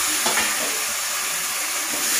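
Tomatoes added to a pan and stirred for vankaya bendakaya curry (eggplant and okra) give a loud, close, bright sizzle and hiss, with a few soft scraping stirs.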